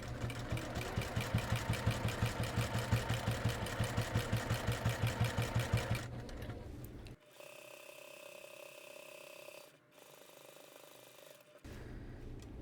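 A sewing machine runs a fast, steady rhythmic stitching pattern along a quarter-inch seam on a pot holder, then stops, leaving a quieter mechanical hum with a faint tone and a brief restart near the end.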